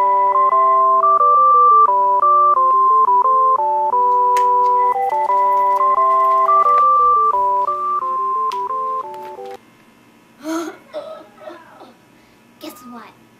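A telephone number is dialed as a rapid run of DTMF keypad tones, loud and close, followed by a few short bursts of voice.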